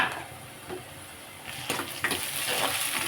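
Ginger-garlic paste frying with onions and green chillies for a taro (colocasia) curry, a soft steady sizzle with occasional stirring scrapes that grows slightly louder midway, close and without talk.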